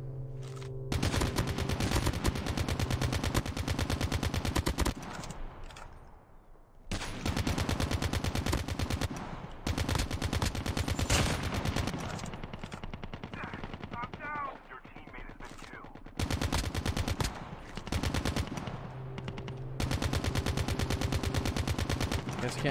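Sustained automatic gunfire in the mobile shooter Call of Duty Mobile comes in long rapid bursts separated by short pauses, close and loud, with a few quieter moments between volleys.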